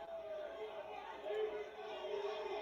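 A wrestling crowd murmurs and chatters at a distance at a live indie show, a steady faint hubbub with no distinct cheers.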